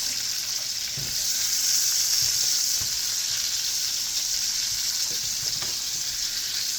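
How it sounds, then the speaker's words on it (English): Pork loins sizzle steadily in a hot frying pan as they are flipped. The hiss stays constant and bright, with a few faint soft knocks from turning the meat and no talking. "So I'm now going to go ahead and flip my pork loins."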